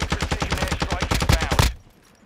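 Rapid automatic gunfire in the video game Warzone 2, a loud close burst of evenly spaced shots lasting under two seconds, then cutting off abruptly into quiet.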